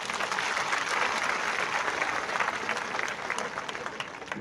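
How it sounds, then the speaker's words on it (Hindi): Audience at an independent candidate's election rally in Chittorgarh, Rajasthan, applauding the guests with dense, sustained clapping that stays steady and fairly loud throughout. "आप एक बार सब अतिथियों को एक बार ताली बजा देना।"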